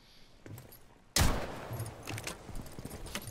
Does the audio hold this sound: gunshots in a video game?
yes